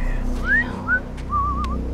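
A person whistles a short, wavering tune of rising and falling notes during a Survivor immunity challenge outdoors, close and clear over a low background rumble, with brief gaps between phrases.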